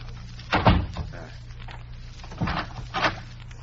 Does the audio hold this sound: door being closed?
yes